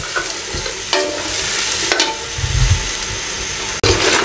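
Green peas and potato for an aloo matar curry are stir-fried over a medium flame, with a loud, close, continuous sizzle broken by scraping stirs and a few sharp knocks against the pan.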